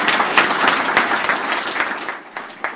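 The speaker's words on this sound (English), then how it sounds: "And a round of applause for them." Audience applause filling a room at a donation event for UBATC staff and employees, steady dense clapping that holds throughout and tapers slightly near the end.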